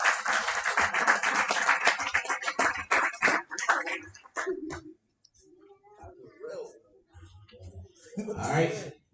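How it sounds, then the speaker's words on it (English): Audience claps at a barber graduation ceremony, a loud burst of applause for several seconds that fades out, followed by quieter scattered sounds and voices. "Give me a big round of applause."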